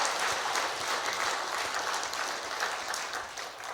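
Church congregation applauding in thanks, a dense, steady wash of many hands clapping that fills the room at an even level throughout.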